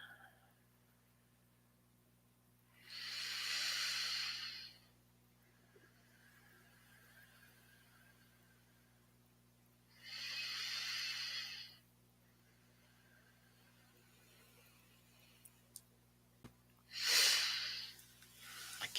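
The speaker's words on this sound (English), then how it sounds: "close your eyes and breathe deeply" Slow, deep breaths during yoga meditation: three long, airy, breathy swells a few seconds each, separated by quiet pauses over a steady low hum.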